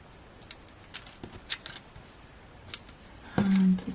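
Scissors snipping through craft card, a few short, sharp cuts close by in a quiet room, followed by a brief louder rustle at the end.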